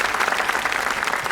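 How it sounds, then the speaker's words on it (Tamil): Dense applause from a studio audience on a Pongal-festival TV game show, loud and steady throughout a short burst of clapping. "கயலுக்காக ஒரு பலத்த கரகோஷம்."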